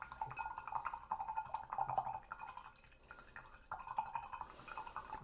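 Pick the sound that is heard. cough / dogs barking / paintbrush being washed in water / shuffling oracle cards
paintbrush being washed in water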